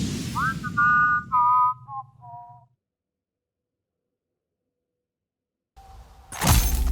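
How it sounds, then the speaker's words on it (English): A robot in the sci-fi video game Everreach: Project Eden whistles a short, clear descending tune of a few notes. Silence follows, then a sudden loud burst of noise. "Engaging whistling subroutine"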